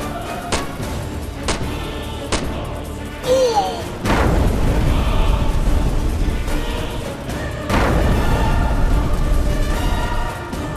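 A loud explosion booms amid a chaotic dramatic scene with crashes and shouting voices, followed by a second heavy blast.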